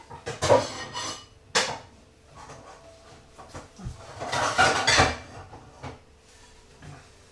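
Metal cookware clanks and scrapes a few times as a small frying pan is handled, with a sharp clatter early and a busier rattle midway.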